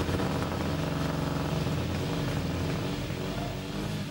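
An engine runs steadily at a university rollout of the PX218 vehicle in an auditorium, a constant low droning hum with a slight rhythmic pulse, fairly loud and unbroken.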